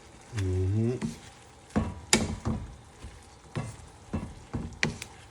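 A chicken, shrimp and kale stir fry sizzles in a pan amid repeated loud scrapes and tosses of a utensil in an uneven rhythm, with a brief low hum near the start and no clear talking.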